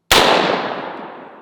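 A single sharp rifle report from a Kel-Tec SU-16 firing Underwood .223 62-grain ammunition cracks loudly up close, then rings out in a long decaying tail with no voices.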